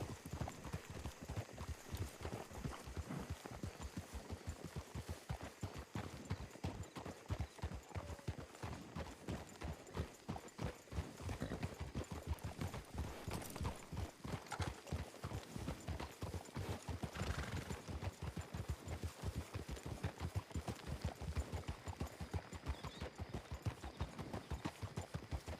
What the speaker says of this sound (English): You want to ride on the back of my horse so you don't have to worry about anything?